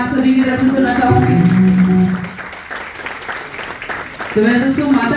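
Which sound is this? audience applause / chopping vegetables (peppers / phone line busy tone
audience applause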